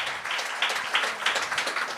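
Audience applause at a comedy and talent show for a performer named Maud: dense, steady clapping from a crowd, with a few louder swells and no voices on top.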